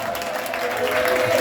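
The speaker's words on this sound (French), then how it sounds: "Ça peut s'applaudir." A classroom audience breaks into brief, dense applause, a short burst of many clapping hands with a faint tonal hum underneath.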